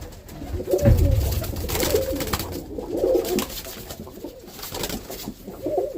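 Roller pigeons coo in a loft on the cock side, low throaty rolling calls from several birds overlapping close by, loud and continuous with soft wing and shuffling sounds beneath.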